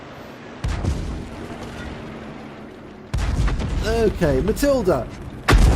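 Heavy cannon blasts from a Bishop self-propelled gun in a tank battle game, a sharp boom near the start, then a loud crack with mechanical clatter under a man's speech, and another close report at the end.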